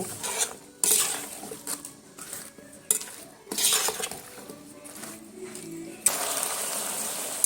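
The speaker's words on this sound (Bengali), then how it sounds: "নুন হলুদের গুঁড়ো আর কাঁচা লঙ্কা দিয়ে পালং শাক আর শিমটা আমি এখানে সুন্দর করে কষিয়ে নেব।" Flat beans and spinach with salt, turmeric and green chillies being sautéed in a pan, with repeated scraping and clinking strokes of a spatula over a light sizzle, close and irregular, ending in a steadier hiss.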